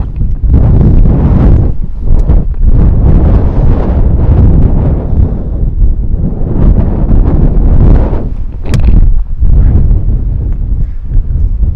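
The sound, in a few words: strong wind on a golf course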